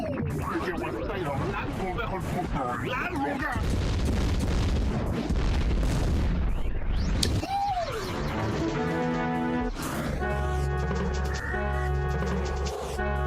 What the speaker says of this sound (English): It's just sound effects and explosions.